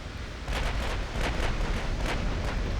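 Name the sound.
battleship full gun salvo firing in Ultimate Admiral: Dreadnoughts video game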